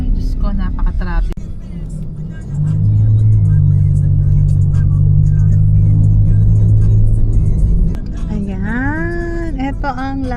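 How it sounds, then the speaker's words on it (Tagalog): Heavy road traffic with cars passing close by: a rising, sustained engine drone swells through the middle, and people talk over it at the start and end. "Ang daming sasakyan."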